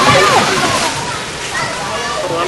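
Water sloshing and splashing around a container at close range, with busy, continuous splatter and voices talking over it throughout.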